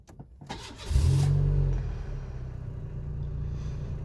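A Renault Mégane 1 phase 2 with automatic AL4 gearbox and a failing starter cranks briefly and catches, its engine rising into a loud rev and then settling to a steady idle, with no talk.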